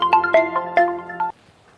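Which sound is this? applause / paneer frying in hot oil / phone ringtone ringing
phone ringtone ringing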